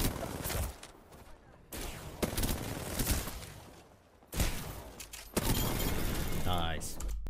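Bursts of R9 rifle fire in Rainbow Six Siege, heavy and fast, with shattering impacts. Several separate volleys break up quieter stretches of game noise.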